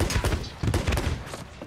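Gunfire in Sea of Thieves comes as a rapid, rough burst of overlapping shots and thumps, loud and close, with no speech heard.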